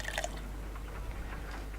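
Liquid trickles and drips faintly in the video game Sherlock Holmes: Crimes and Punishments, a brief quiet pour with no talking.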